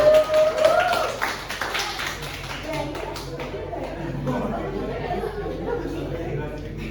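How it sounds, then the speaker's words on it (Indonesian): A classroom gives a round of applause for group 3, a brief burst of clapping at the start that soon fades into murmuring chatter and shuffling, with a voice speaking. "Beri tepuk tangan untuk"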